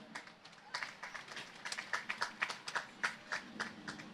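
Scattered, fairly faint applause from a church youth gathering audience welcoming a speaker, individual hand claps building into an irregular patter over a few seconds.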